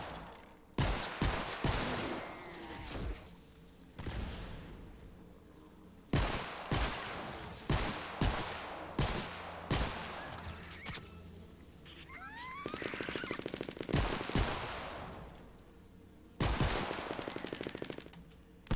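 Rapid bursts of pistol fire from a purple pistol build in Fortnite Save the World, sharp repeated shots clustered in quick volleys with brief pauses between, loud and up close, mixed with game effects and no talking.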